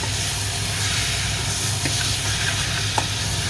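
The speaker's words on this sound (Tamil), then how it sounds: "வெட்டி வச்சுக்கிற மாட்டிறைச்சியை போட போகிறோம்." Cut beef tossed into a hot pan and stirred, with a steady close sizzle and frying hiss running throughout, plus a couple of faint scrape or clink accents from the stirring.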